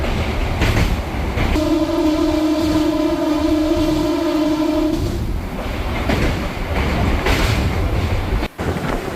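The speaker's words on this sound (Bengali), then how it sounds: "এই নদীটা পেরিয়ে ট্রেনটা যাবে" A train on the South Eastern Railway crosses the Rupnarayan river bridge near Kolaghat station with a loud, steady rolling rumble. A sustained horn-like tone holds for several seconds in the middle.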